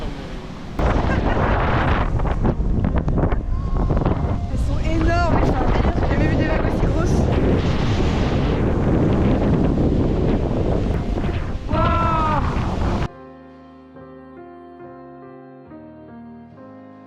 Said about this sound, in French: Les vagues elles font 3 mètres. Elles sont énormes